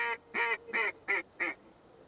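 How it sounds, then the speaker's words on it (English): A short-range duck call in a duck hunting video game gives five quick, nasal quacks in an even rhythm. The quacks are clear and close, with brief gaps between them and no talk over them. "This is a short-range call. Use this to lure ducks in close."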